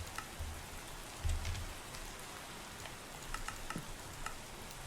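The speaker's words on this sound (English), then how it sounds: "Let me get rid of all this rain." Rain falls steadily in a Minecraft modpack world, a soft continuous patter with scattered light ticks and a few low thumps, faint and even throughout with no voices.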